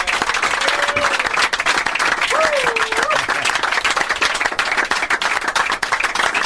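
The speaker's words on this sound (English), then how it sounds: "we just want to give you a big round of applause" Loud, sustained applause from a crowd at a radio station farewell broadcast, dense clapping throughout with a few brief whistles or vocal tones rising over it.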